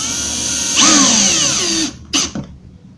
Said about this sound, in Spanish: Procedo a colocar los otros dos tornillos y al haber hecho la perforación en la melamina me es muy fácil colocarlos